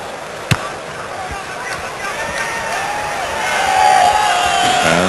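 A crowd on the far side of a rugby ground between the Cavaliers and the Junior Springboks cheers Hugh Reese-Edwards' penalty kick. A broad roar swells midway and holds, distant and blended with commentary.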